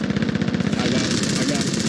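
Rapid automatic gunfire in the video game Call of Duty: Warzone, loud and close, a fast steady stream of shots rattling without a break.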